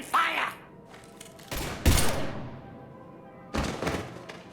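Gunfire in the video game Mass Effect 3: a few sharp, loud broadband bursts of shots separated by quieter stretches of low game ambience.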